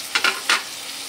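Masala curry with water for a butter fish and potato dish being stirred in a pan: three quick scraping strokes of a utensil close by over a quiet, faint background, no speech.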